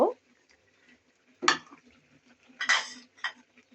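A spoon stirring liver with salt in a pan gives a few brief, separate metallic scrapes and clinks, sparse and close against quiet, with a faint voice in the background.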